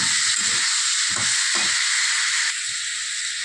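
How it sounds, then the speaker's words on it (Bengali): Mixed vegetables sautéing in a pan with coriander powder for khichuri, a loud steady sizzle and hiss with a few scraping stirs near the start, close and without speech. "আমি সবজিটাকে ভালো করে কষিয়ে নেব"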